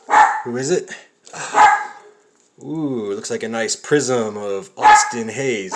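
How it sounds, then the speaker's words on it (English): Two sharp, close dog barks ring out early, followed by someone speaking, then another bark near the end, loud and right beside the microphone. "That's my dog barking."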